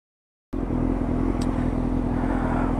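A motorcycle rides through traffic, its engine a loud, steady drone that starts abruptly after half a second of silence and holds unbroken to the end.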